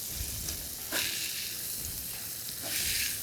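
A smashburger patty for a patty melt sizzles hard on a hot griddle while being flipped, giving a steady loud crackling hiss with a couple of brief bursts.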